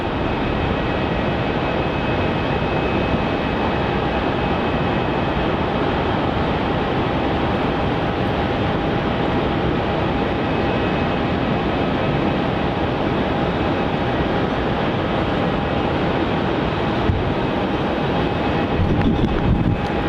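Qantas flight 151 departing Melbourne Airport for Auckland gives a loud, steady broadband jet roar that holds evenly throughout with no talk over it.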